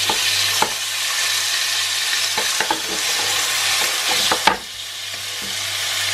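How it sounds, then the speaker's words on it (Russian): Chicken fries in a wok, a continuous loud sizzle broken by a few sharp scraping and clacking stirs, with no talking heard. "Курица у нас немножечко уже обжарилась"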